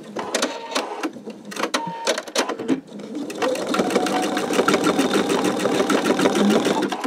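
A sewing machine stitches a greeting card backed with peel-and-stick stabilizer. After some uneven starts it runs up to a faster speed, giving a loud, close, fast and even rattle of needle strokes.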